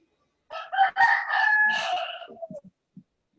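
A rooster crows once in a single long, clear cock-a-doodle-doo, fairly near and loud in otherwise quiet surroundings, trailing off into a few short clucks.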